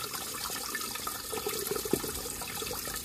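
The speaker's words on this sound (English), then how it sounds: "So again, just going to let that run clear and then obviously test again with the turbidity tube." Water runs from a radiator being power flushed on a central heating system, a steady, faint trickling and splashing flow that continues throughout with no voices.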